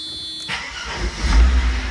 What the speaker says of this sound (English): the car fired right up